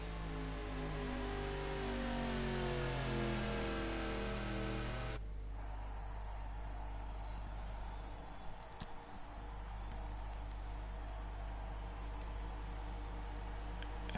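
Race cars passing on the Oval of Florida track, a steady loud engine drone that sweeps past and then drops to a lower rumble with faint whooshes.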